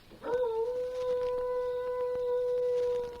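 A voice mimics a wolf howl as a signal, one long sustained wavering cry held for nearly three seconds, loud and close with no talk.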